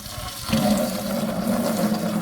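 Coolant draining from the radiator of a 1940 Ford 9N tractor into a bucket, a steady gushing, splashing stream that swells after half a second and keeps running at an even level.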